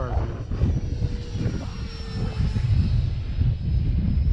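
Arrows F86 radio-controlled model jet flying in gusty wind, a steady engine roar running throughout with wind buffeting underneath, loud and fairly close, with some background voices.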